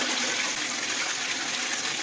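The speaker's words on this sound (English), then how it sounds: "I'm going to be flushing it now." A toilet in a renovated apartment flushing, a steady loud rush of water pouring continuously from start to finish with no talking.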